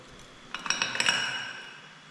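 A metal cross stand for an alcohol stove clinks while being handled, giving several quick, light, ringing taps close by, with no talking.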